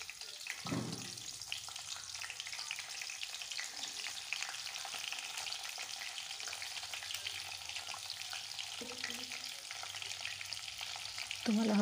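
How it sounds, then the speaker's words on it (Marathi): Whole brinjals frying in hot oil in a kadhai, a steady crackling sizzle throughout with a brief clatter near the start and end, no voices. "तेल तापल्यानंतर त्यामध्ये सगळी वांगी टाकून घ्यायची आहेत."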